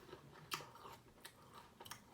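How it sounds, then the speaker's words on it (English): Crunchy fried seitan chicken chewed close to the mouth, a run of quiet irregular crisp crunches and bites, faint and intimate, with no talking. "now y'all see me munching and crunching"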